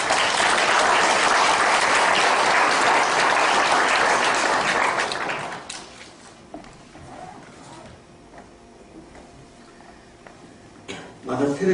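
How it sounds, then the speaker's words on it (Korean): A congregation at a university chapel service gives loud, dense applause of encouragement for about five seconds, then the clapping fades into quiet room noise, with a brief burst of sound near the end. "격려의 박수"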